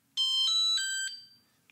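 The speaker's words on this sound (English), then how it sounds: "Did you hear that? Our update's complete." Completion chime from a Knog Scout bike alarm finishing a firmware update: four bright electronic tones in quick succession, clear and close, the last note trailing away before a tiny click.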